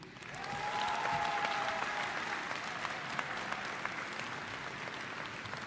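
A hall full of people applauds new Faculty of Science graduates at a university graduation ceremony, with a dense, sustained wash of clapping that swells early and holds steady, a few louder individual claps standing out.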